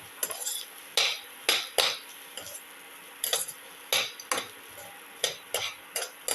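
Ginger pieces are dropped into a pan and stirred, giving sharp, irregular clinks and scrapes of utensil against cookware at close range, with no voices.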